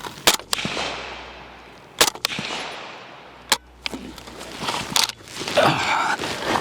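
Rifle gunfire from a weapon fed by an AK magazine: a handful of sharp, loud shots in irregular pairs and singles, with shuffling and rustling between them and a rising clatter at the end.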